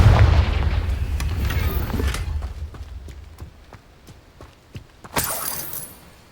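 Confringo blasting spells go off in a Harry Potter video game, with a heavy booming blast at the start followed by a string of sharp cracks and impacts, and another bright burst near the end.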